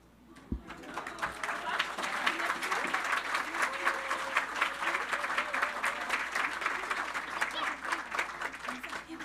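Audience at a Christmas church gathering applauds a children's choir: a dense, steady wash of many hands clapping that swells quickly and holds, with a few voices faintly mixed in.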